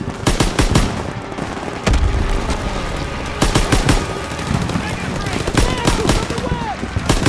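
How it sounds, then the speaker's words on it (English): Heavy suppressive gunfire in the World War 2 shooter Call of Duty, with rapid machine-gun bursts and sharp rifle shots cracking close and loud among booms, nearly continuous across the clip. "Focus suppressive fire, now!"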